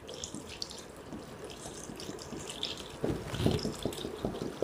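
Water is poured into a deep pot of bamboo shoots, first as a faint steady trickle, then as a louder splashing stream for the last couple of seconds, with no talking.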